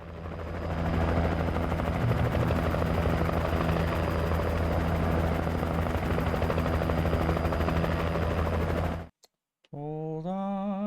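A helicopter's rotor in Alan Wake Remastered chops loudly and steadily for several seconds, then cuts off abruptly, followed by a brief tonal electronic sound.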